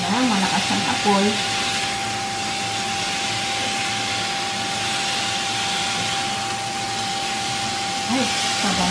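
Bean sprouts and tofu stir-frying over a high flame in a home kitchen, heard as a steady, loud broadband hiss and roar that runs unbroken throughout, with a voice speaking briefly at the start and end.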